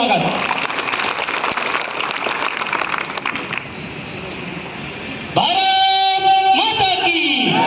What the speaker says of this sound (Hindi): आजाद प्रेम सिंह जी के लिए एक बार जोरदार तालियों से स्वागत।